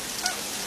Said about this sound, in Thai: ดูฝนตกเลยครับ